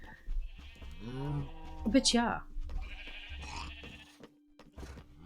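A llama in Minecraft gives a few bleating calls, one sharp rising cry standing out midway, heard alongside a person talking softly near the start and end.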